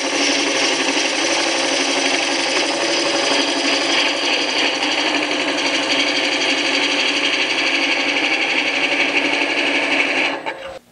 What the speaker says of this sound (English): I'm rubbing the bevel, raise the handle till it starts cutting